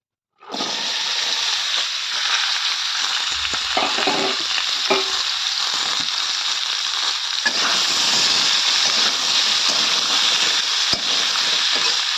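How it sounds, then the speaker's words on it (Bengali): Kohlrabi, brinjal and medium potatoes tipped into a hot pan burst into a loud, sudden sizzle that holds as a dense, continuous hiss of frying, with occasional stirring scrapes, close up and without voices. "কেটে রাখা একটা ওলকপি ছিল, আর দুটো বেগুন, আর আছে মিডিয়াম সাইজ দুটো আলু, এগুলো ঢেলে দেবো"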